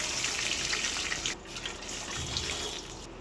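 Two glasses of water pour into a pan of tempered cumin, onion, chilli and curry leaves for upma, a close rushing gurgle that briefly pauses before flowing again.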